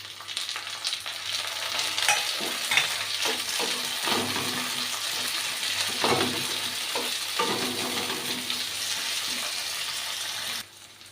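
Tomatoes frying in oil in a home kitchen pan, a steady close sizzle with intermittent stirring scrapes and clatters throughout, ending abruptly.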